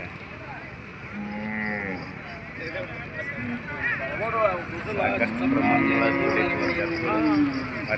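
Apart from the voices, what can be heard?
bulls mooing at Gadag livestock market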